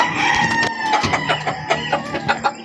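A red junglefowl rooster crows loudly and close, its harmonic call running through the clip alongside clucking from other fowl, with no talk.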